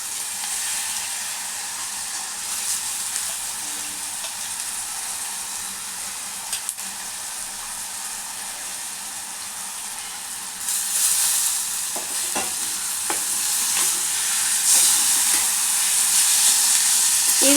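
Moong dal tipped into a pan of frying onions for a Telangana-style fenugreek-leaf dal, a steady close sizzle that swells louder and denser partway through, with scraping and clinks as it goes in.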